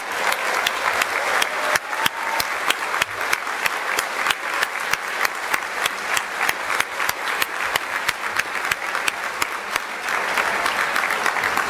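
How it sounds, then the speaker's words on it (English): A school assembly audience at a lecture bursts into sustained, dense clapping that continues evenly for the whole stretch, loud and close, with a few faint voices mixed in. "How about one last round of applause for Mr."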